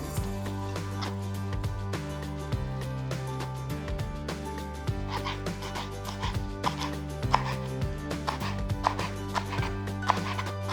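Rapid, steady knife chops slicing vegetables on a cutting board, a continuous rhythmic series of sharp taps with a low hum underneath.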